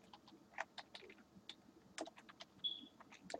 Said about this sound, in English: So let me type this in here.